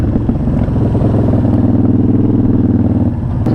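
A Yamaha Striker cruiser motorcycle rumbles loudly and steadily while being ridden, its low engine drone holding constant with no voices over it.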